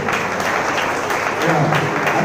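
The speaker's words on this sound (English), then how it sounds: "You're allowed to clap if you like it." An audience claps at a farewell gathering for a Christian Brother, a brief burst of steady clapping with some voices mixed in underneath.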